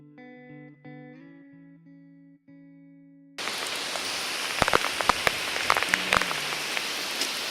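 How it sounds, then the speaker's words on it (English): Heavy rain pours steadily in a forest, a dense, loud hiss with sharper drop impacts scattered through it, starting abruptly after a few seconds of sustained electronic tones. "It actually rained like mental."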